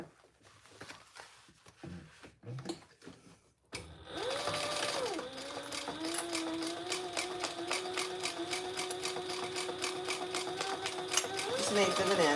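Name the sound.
sewing machine basting fabric for a sling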